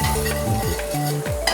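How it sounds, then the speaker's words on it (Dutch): Onion or shallot and garlic frying in olive oil in a pan in a restaurant kitchen: a steady close sizzle with stirring and light pan clatter throughout. "Laten we dit een beetje bakken."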